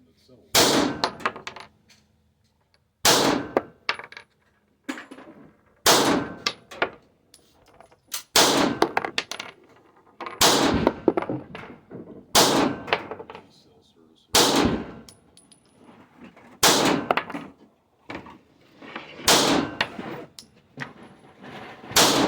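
Sharp, rapid bursts of shots from an FN Reflex 5.7 pistol at a range, fired in quick strings separated by short pauses, loud and close with metallic ringing after each string.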